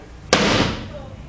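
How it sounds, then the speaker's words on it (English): A fist strikes a wooden door frame once, a sharp loud crack followed by a brief fading ring, close and alone. "I'm gonna punch this this door frame right here"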